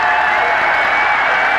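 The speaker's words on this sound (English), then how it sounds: "listen to the crowd" A basketball arena crowd at Indiana at Penn State in 1993 roars with steady cheering and applause, a dense, continuous wall of noise throughout.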